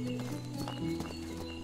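A horse in the medieval farming game Medieval Dynasty, with soft hoof clip-clops and faint snorting movement, heard quietly and close over a low steady background hum.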